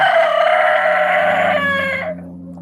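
A rooster on a small farm keeping piglets, chickens and ducks crows once, loud and close, holding a long ringing call that cuts off after about two seconds.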